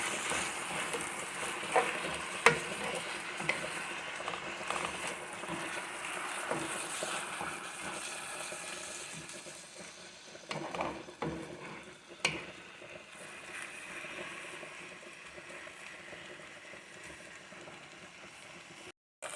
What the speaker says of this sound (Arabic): هسه نجي نحليه بالزيت الرز.